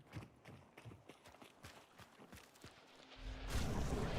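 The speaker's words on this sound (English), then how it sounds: "Is that a horse behind us?" Horse hooves clip-clop in a steady, fairly quick rhythm behind the player in a video game, faint and somewhat distant, with a louder rumbling noise swelling at the end.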